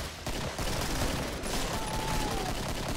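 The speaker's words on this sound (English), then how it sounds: "I got my pistol out now for these guys." Rapid pistol shots ring out in the co-op shooter game Killing Floor, a dense burst of gunfire filling the whole moment at moderate level.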